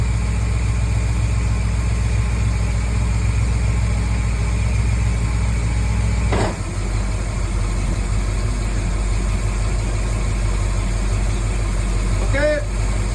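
A 454 Crusader marine engine idles in gear, a steady low rumble holding even throughout with a brief dip and a faint clatter midway.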